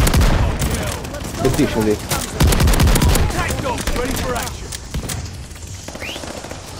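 The Doom super shotgun firing in a frantic corridor fight, a quick run of heavy blasts and booms that thins out toward the end, with a voice speaking briefly over the shots.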